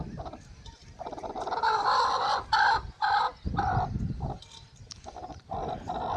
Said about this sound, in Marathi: अंड्यांसाठी धावपळ बघा किती आहे कोंबडीची